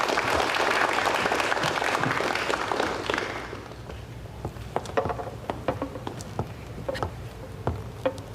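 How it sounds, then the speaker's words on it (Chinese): A room applauds a violin solo at a venue with table requests: dense clapping for about three seconds, then thinning to scattered, fading claps. "大家掌声欢迎"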